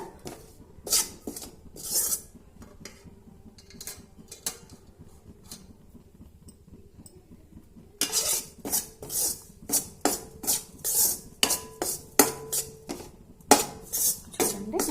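A metal spoon scrapes and clatters against a pan while gram flour roasts on low heat for besan laddu, with repeated sharp knocks and scrapes, sparse at first and then quicker and louder.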